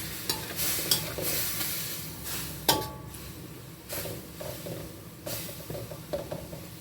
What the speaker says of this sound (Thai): นำขาหมูของเรานะคะ มาผัดจน ขาหมูเปลี่ยนสีนะคะ